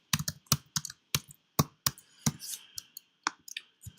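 A chat name being typed on a computer keyboard, crisp close keystrokes in an irregular run with short gaps, loud and clear with no speech.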